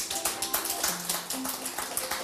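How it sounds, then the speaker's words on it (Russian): Studio audience at a Russian family-traditions music TV show breaks into steady applause, a dense run of overlapping claps with rhythmic peaks filling the hall, with no talk over it. "аплодисменты."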